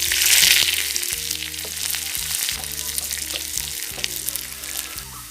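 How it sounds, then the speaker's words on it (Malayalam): Chopped small red shallots sizzle steadily in hot oil with popped mustard seeds for a Kerala fish curry, a dense close frying hiss with occasional stirring, and no talking. "കടുക് പൊട്ടി കഴിയുമ്പോൾ ഉള്ളിയില്ലേ, ചെറിയ ഉള്ളി, ചുവന്നുള്ളി അത് അരിഞ്ഞത് കുറച്ച്"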